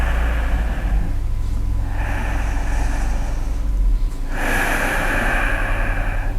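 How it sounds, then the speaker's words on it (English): Deep breathing in a yoga class, three long breathy inhales and exhales close to the microphone, each swelling and fading over a low steady hum, with no talking. "Lengthen your breath."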